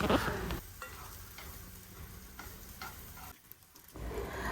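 Cut banana pieces fry in ghee in a pan for an evening snack. The sizzle is quiet and steady, broken by a few soft stirring knocks and a brief dip near the end.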